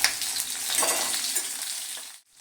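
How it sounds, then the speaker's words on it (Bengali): Capsicum pieces lightly frying in oil, giving a close, busy sizzle with faint stirring clinks that fades out abruptly near the end, and no voices. "এখানে কিন্তু একদম বেশি ভেজে নেব না, হালকা করেই ভেজে নেব।"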